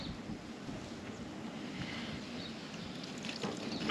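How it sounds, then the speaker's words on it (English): Strong wind buffets the microphone at a wild camp in Chile, a steady rough low roar with gusts that swell toward the end, with no voices. "There's a lot of wind."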